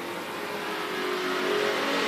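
A race car, the 1 car, runs shakedown laps on the track, its engine a steady, distant drone that swells slightly louder as it goes.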